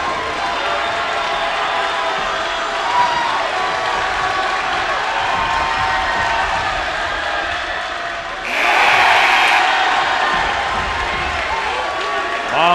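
Crowd in a gym at a WPIAL boys' high school basketball game, Franklin Regional at Gateway, keeping up a steady loud roar that swells into cheering and applause after foul shots, with a commentator talking over it.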